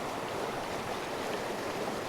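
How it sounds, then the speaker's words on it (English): Creek rapids in Aravaipa Canyon, a steady broadband rush of flowing water, close and continuous with no voices. "water features and rapids down at this west end than the east"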